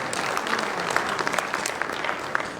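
An audience at a Hindi kavi sammelan poetry gathering applauds in a steady, dense wash of clapping with scattered sharper claps, sustained at moderate loudness throughout.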